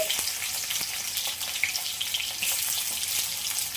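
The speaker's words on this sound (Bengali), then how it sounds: "সাদা তেল দিলাম, তারপরে দিব হচ্ছে পেঁয়াজ কুচি" Chopped onion frying in a little white cooking oil for chow mein, a steady close sizzle with crackling bursts throughout, no voices.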